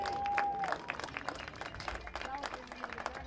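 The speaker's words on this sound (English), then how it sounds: "Round of applause for these players for a great game." Crowd claps after a high school boys' soccer game, fairly faint and scattered applause from spectators, with a short tonal beep at the start.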